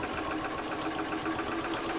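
A sewing machine stitching a fabric door knob pocket, running at a steady even whir with a fast regular stitching rhythm, close and continuous without pause.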